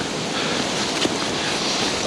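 Blustery autumn wind rushes across open heathland on a countryside walk, a continuous broadband buffeting roar against the microphone with no speech.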